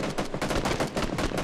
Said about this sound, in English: Some guy has SKS on me.